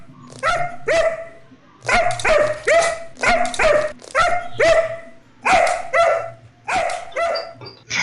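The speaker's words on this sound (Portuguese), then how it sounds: "Chewie, o primeiro cão podcaster do planeta Terra." A dog barks loudly and close in a regular series of sharp woofs, about a dozen in a row with short pauses between, some ending in a slight whine.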